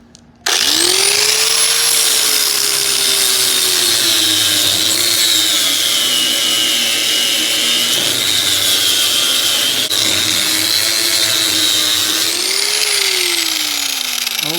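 A power sander with sanding discs grinds down welds on a race car chassis, starting abruptly and running as a loud, continuous whine that dips and rises in pitch as pressure changes on the metal, close up with no talk.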